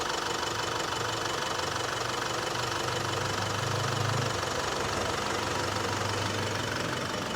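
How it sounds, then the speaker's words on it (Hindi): The diesel engine of a Mahindra Alturas G4 SUV idles close by, giving a steady, even rumble with a faint rhythmic knocking and no voices. "डीजल इंजन में थोड़ी सी वाइब्रेशन तो फील होगी क्योंकि पेट्रोल इंजन नहीं है"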